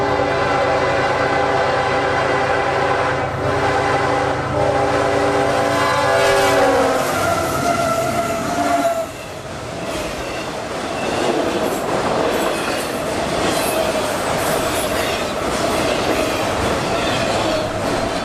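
A long Chicago intermodal freight train passes on the railroad near Jacksonville, Florida: a loud horn blast, then a steady roar of wheels and cars rolling by with clickety-clack, close and continuous.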